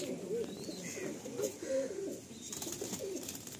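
A male Madrasi pigeon in a loft in Kolkata coos softly in repeated low, throaty phrases, faint and close, with quiet background murmurs and a few higher chirps.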